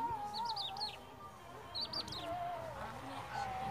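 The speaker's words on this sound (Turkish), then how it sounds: "Kuşların cıvıltısı çok güzel." Birds chirping outdoors in a mountain village, several short bright twittering phrases and thin whistles at moderate distance over a soft background hum.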